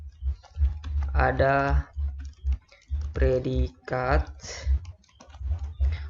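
Typing of a Visual Prolog script on a computer keyboard, with soft repeated key clicks running steadily under a nearby speaking voice.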